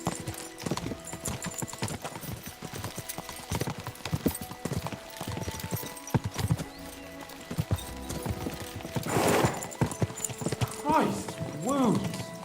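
Horses gallop in the medieval video game Kingdom Come: Deliverance II, with rhythmic hoofbeats under game dialogue, a burst of noise midway and a horse whinnying near the end.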